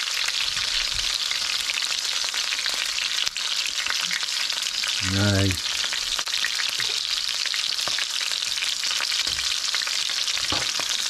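Wild chicken and bacon sizzle loudly and steadily in a hot pan, with a single brief spoken word partway through.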